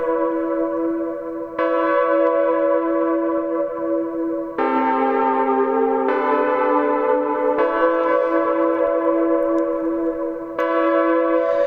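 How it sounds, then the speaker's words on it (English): Roland System 100 clone synthesizer voices in a modular patch play sustained chords that change every few seconds, with rich harmonic tones and slight pitch modulation from an LFO, steady and loud with no talk. "let's listen to that bunch of Roland voices"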